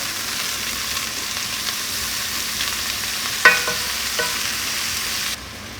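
Chicken pieces fry in a pan with a steady, loud sizzle, joined by a few sharp clicks and a brief louder burst as onion goes in, followed by a quieter stretch of frying near the end.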